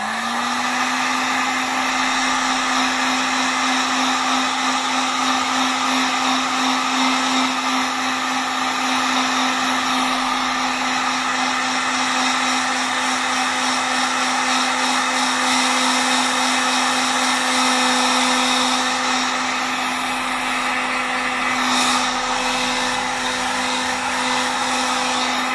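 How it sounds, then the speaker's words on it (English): A hairdryer blows over a weathered Mandalorian blaster prop, giving a loud, steady whir with a constant hum that runs unbroken for the whole stretch, with no voices. "then I'm just going to dry it off with a hairdryer again"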